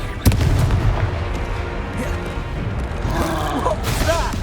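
Confringo fire spell from Hogwarts Legacy bursts in a sharp blast near the start, followed by a rumbling, crackling battle din with shouted voices rising later on.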